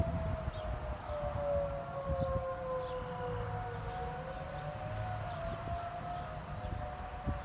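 A civil defense tornado siren sounds during a test in Boone County, Illinois, heard from a distance as a long, steady wailing tone that slowly shifts pitch as it rotates, continuous over faint background noise.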